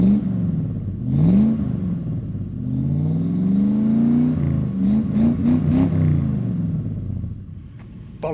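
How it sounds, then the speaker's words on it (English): A Triumph Stag's engine fires up at the exhaust and is revved several times, rising and falling rumbling bursts recorded close behind the tailpipe, then settling toward idle. "point the microphone at the back of the exhaust and get it fired up"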